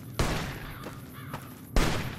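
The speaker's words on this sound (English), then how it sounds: "You hear those gunshots from a long way away, huh?" Gunshots in the video game Fallout: Dust crack out as two sharp, booming reports with rolling echoes, the first at the start and the second near the end, heard with no talk.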